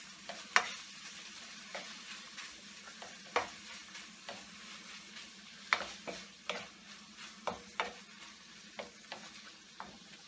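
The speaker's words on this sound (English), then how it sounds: "I'm going to give that a quick toss." Minced chicken for keema mattar is tossed in a hot pan with a soft, steady sizzle and repeated scraping, stirring knocks spaced about half a second to a second apart, with no voices.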